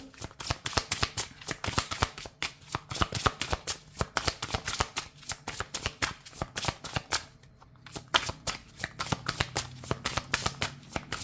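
Oracle cards shuffled by hand in a rapid, continuous riffle of crisp flapping slaps, close and steady, with a brief pause near the end.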